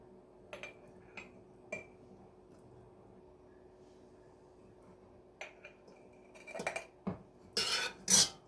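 Boiled corn is spooned and drained into glass jars: scattered light clinks of a spoon against glass and metal, then a louder clatter of dishware near the end.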